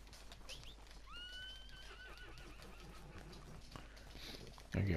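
A horse in Red Dead Redemption 2 lets out a clear, close whinny, with clip-clopping hooves and faint ambient noise around it.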